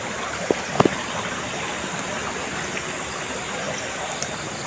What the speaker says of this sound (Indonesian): ini sungai.